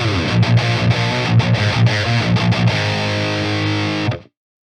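A distorted electric guitar through an amp set for metal tone, gain on 6, chugs through several choppy, crunchy chords, then rings out on a sustained fuzzy note before stopping.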